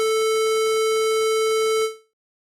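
Synthesizer square wave holding one steady buzzy tone with only odd harmonics, chopped into a rapid stuttering rhythm, then cut off after about two seconds into silence.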